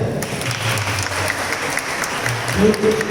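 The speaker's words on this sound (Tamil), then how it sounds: "கைத்தட்டுங்க." Brief clapping from a crowd at a church festival flag-lowering Mass for Our Lady of Lourdes, a steady patter of hands lasting a few seconds with a voice briefly breaking in near the end.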